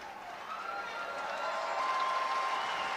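Crowd cheering and applauding at the Arnold Classic 2025 bodybuilding individual posing show, a steady broadband roar swelling slightly louder over three seconds, with whistles cutting through.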